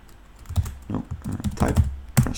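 Keys clack in an irregular burst on a computer keyboard while code is entered in a compiler project, the strokes close and fairly loud with no one speaking.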